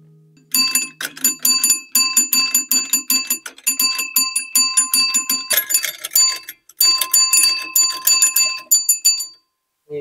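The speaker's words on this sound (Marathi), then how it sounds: "कशा पायी घंटी वाजवतो हा?" A small handheld bell is rung rapidly and repeatedly in quick clusters of bright, ringing strikes, loud and close, with brief pauses between bursts and a short gap near the end.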